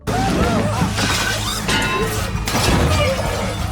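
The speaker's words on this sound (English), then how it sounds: "the female killer noticed the surveillance, and immediately shot and shattered the camera" A surveillance camera shot and shattered in a film scene, a loud sustained burst of breaking glass and crashing debris that fills the moment without talk.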